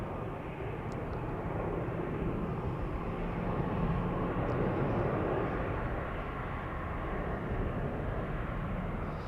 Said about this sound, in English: Lovely 777-200 going to Tel Aviv in Israel.